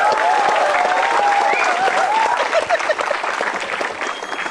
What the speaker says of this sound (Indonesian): Tepuk tangan untuk Jui Purwoto.